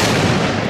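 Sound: Cobra firecracker bang

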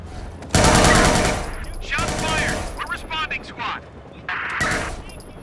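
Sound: gunfire in a police shootout, video game Watch Dogs 2

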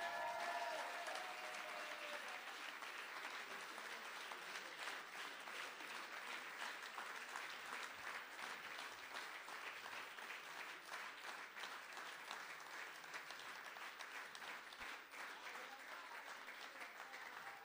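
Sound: audience applause at a general assembly

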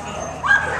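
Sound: dog whimpering and yipping

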